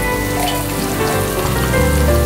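Chopped onion sizzling in butter with minced garlic, a loud close crackling fry that runs steadily from start to finish with no talk.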